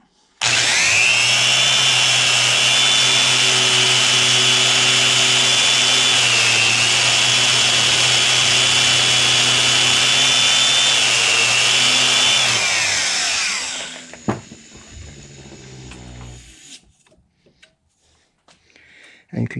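High-speed cutting tool spinning at about 10,000 RPM as it cuts a new valve on a lathe for a Stickney 7HP stationary hit-and-miss engine; a loud, steady whining grind holds for about thirteen seconds, then winds down, followed by clatter and quiet handling noises.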